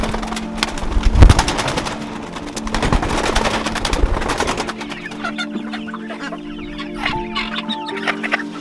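Fancy young chicks about two and a half months old cluck and chirp inside a small-farm coop, scattered soft calls amid rustling and a few knocks, fairly close and moderately loud.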